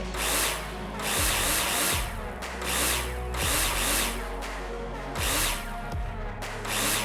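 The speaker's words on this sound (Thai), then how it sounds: "ต้องไขสกรูอันนี้ก่อนครับ ถ้าไม่ไขมันใส่ไม่ได้" Power drill driving screws in the Builder Simulator game, several loud whirring bursts of a few seconds each, separated by short clicks and pauses, with no voices.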